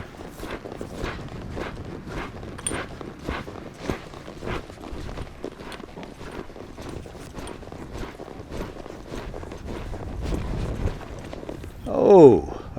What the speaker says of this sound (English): We'll lope off again.